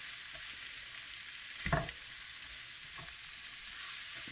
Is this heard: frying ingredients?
yes